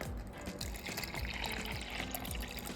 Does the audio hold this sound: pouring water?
yes